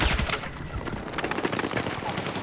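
Rapid bursts of gunfire ring out through a Battlefield 6 campaign firefight, dense and continuous over the full stretch with a faint voice underneath.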